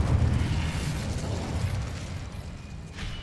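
An Incendio fire spell is cast in the Hogwarts Legacy video game: a loud, rumbling burst of flame roars at once, then slowly fades over a few seconds.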